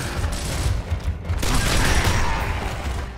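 Heavy gunfire rattles from a powerful gun in the Gears of War: Ultimate Edition video game. Dense, overlapping bursts and booms are loud and continuous, with mechanical clanks mixed in.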